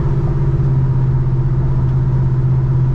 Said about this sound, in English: Gonna be taking this truck on a short drive down the road.